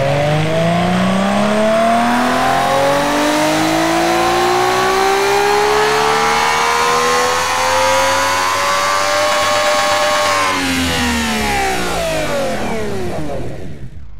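A simulated Formula 1 engine in the Automation car-building game, screaming loud and steady as it revs up through one long pull, pitch rising for about ten seconds before easing off.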